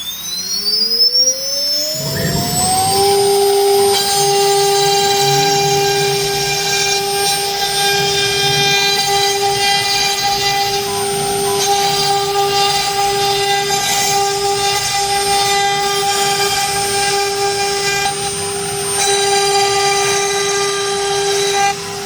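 A CNC router with a knife tool cutting an 18mm MDF sheet gives a loud, steady high-pitched whine that ramps up over the first few seconds, then holds continuously with a rough cutting noise underneath.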